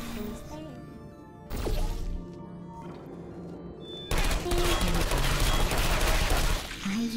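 Portal 2 turrets fire sustained, rapid bullet bursts that grow loud and dense in the second half, following a quieter stretch with game sounds and a synthetic voice.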